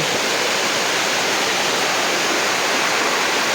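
Powerful rushing water roars without a break at a waterfall, a dense, loud wash of sound, close by.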